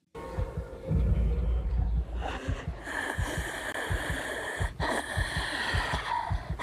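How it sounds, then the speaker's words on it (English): A character in a Five Nights at Freddy's (FNAF) game breathes heavily while hiding inside a suit. Loud, close, rhythmic wheezing breaths and gasps repeat over a low rumble, with no speech. "Oh, that breathing."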